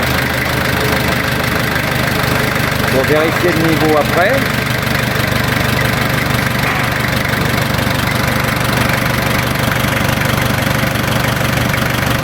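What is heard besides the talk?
car engine idling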